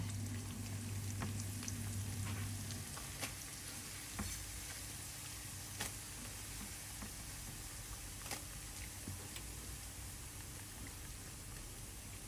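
Shredded crab sticks fry in oil over low heat, giving a continuous faint crackling sizzle with scattered pops and no talk.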